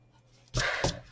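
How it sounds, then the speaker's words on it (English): An eraser rubs out a pencil mark on card during a papercraft sweetie box project: two short, close scrubbing strokes, one after the other, following a quiet stretch. "rub that bit out."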